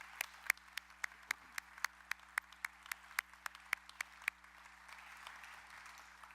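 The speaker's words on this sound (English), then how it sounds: "So a round of applause for all those involved." A small audience at a Foxconn announcement at UW Parkside gives a round of applause for the event organizers, heard as a regular, evenly spaced series of sharp claps close by over faint room hum, fading out after four seconds.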